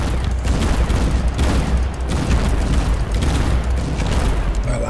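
Heavy booming cannon fire and rumbling battle noise from tanks in War Legends, a dense, loud low roar with repeated thuds, no clear talk.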